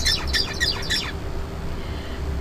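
A songbird sings a short learned song, a quick run of bright, close chirped notes repeated for about a second before it falls quiet against a low background hum.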